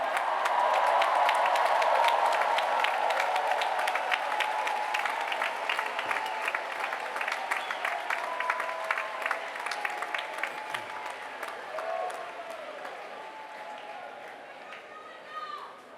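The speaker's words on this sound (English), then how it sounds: "give a round of applause to those who helped you on this journey" A large graduation crowd at the University of Virginia Class of 2024 ceremony applauds, dense sustained clapping that gradually thins and fades, with some voices mixed into the audience noise.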